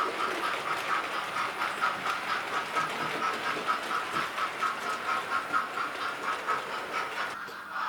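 A Hornby TTS model locomotive runs at express pace through a Peco ST-245 curved point into radius 2 track, giving a steady, close rattling whir with regular rhythmic clicks from the rails, alone and fairly loud, easing off at the end.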